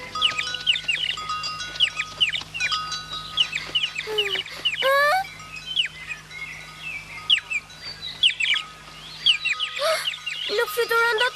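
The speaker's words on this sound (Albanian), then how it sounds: "Nuk i dëgjon? Çfarë? Një zog i vogël." A small cartoon bird chirps in a series of quick, high, bright tweets scattered across the clip, with a few longer calls and quiet dubbed dialogue in between.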